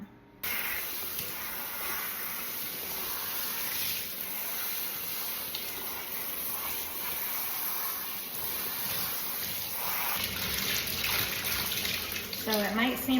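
Steady running water rinsing conditioner out of a human hair wig, a continuous close hiss and splash from a tap that stays even throughout with no talking.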